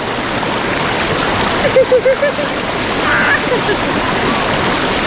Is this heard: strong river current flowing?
yes